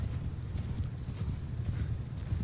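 A large horse army gallops in Mount and Blade Bannerlord, a dense rumbling clatter of many hooves at steady volume, with a faint whinny mixed in.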